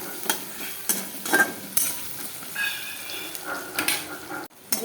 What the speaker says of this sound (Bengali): গোটা রসুন কাটা দিয়ে দিলাম।